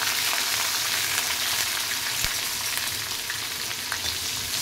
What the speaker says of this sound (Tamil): இப்போ வந்து கருவேப்பிலை போடணும். அடுத்தது இஞ்சி பூண்டு போடணும்.